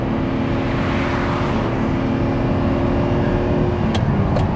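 Sports car engine accelerating out of a corner on the road, a loud, sustained mid-range engine note building steadily, heard close from inside with a couple of faint sharp ticks near the end.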